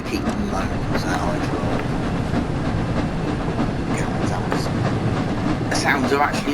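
A heritage-railway train in Train Sim World 4 rumbles along continuously with rhythmic clickety-clack of wheels on rail joints and a steady hiss, a loud unbroken run.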